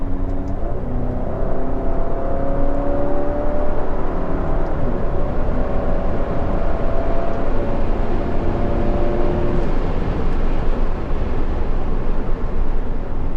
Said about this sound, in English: let's see what all that power actually means in terms of real acceleration